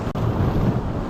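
Sea waves washing onto rocks at a beach in Goa, a brief loud rush of surf mixed with wind noise, with no talk.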